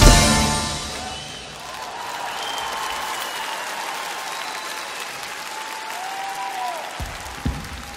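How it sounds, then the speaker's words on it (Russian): A live concert audience breaks into loud applause after a song. The clapping is strongest at first, then continues steadily as a dense ovation with some faint crowd noise. "Судя по овациям, песня удалась."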